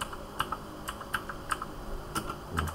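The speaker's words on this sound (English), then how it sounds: "Okay, so I will simply type," Computer keyboard being typed on, a quick run of light, close key clicks spaced irregularly against a quiet room background.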